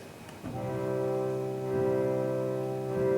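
A steady, sustained reed organ chord with a subtle wavering pulse in volume as air is foot-pumped unevenly, heard alone at moderate loudness.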